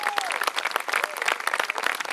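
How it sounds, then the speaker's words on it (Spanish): Dense, lively applause from a theatre audience for the members of a reading-theatre group, a close, steady roar of many hands clapping at once with faint voices mixed in. "aplauso para los integrantes del grupo Teatro Leído"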